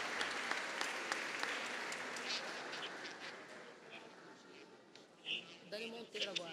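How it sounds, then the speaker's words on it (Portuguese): Applause fills a formal legislative ceremony honouring a deputy. It is moderately loud at first, then thins out while voices and a few sharp nasal sounds break through toward the end. "Nossos agradecimentos à deputada Dani Balbi com os nossos aplausos."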